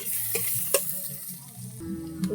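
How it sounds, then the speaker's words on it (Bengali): Onions frying in hot oil with a steady sizzle, broken by a few sharp scrapes and clinks of a spoon stirring the pan, close and moderately loud with no voices. "পেঁয়াজটাকে লাল লাল করে ভেজে নেব"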